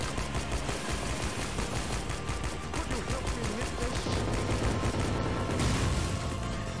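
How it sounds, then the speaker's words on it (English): Explosions and rapid gunfire in the video game Fashion Police Squad, a dense, continuous barrage of loud blasts and shots with no pause throughout. "There's so many explosions, I can't tell like where it's safe."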